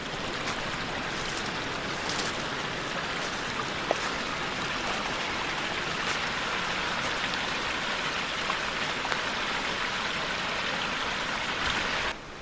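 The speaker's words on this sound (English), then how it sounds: "Nice little waterfall up here." A small waterfall near a rocky woodland campsite pours in a constant, fairly soft rush of splashing water, steady and unbroken with no talking.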